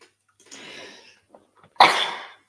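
A single loud, abrupt sneeze bursts out near the end, preceded by a quieter breathy intake a second earlier; close and alone, with no talk over it.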